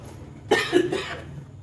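A woman gives a single harsh cough in two quick bursts, close and fairly loud, against a quiet indoor background.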